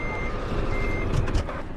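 Reversing beeps from a bus in a bus driving video game, a steady repeated warning tone over a constant low engine rumble, with no talking.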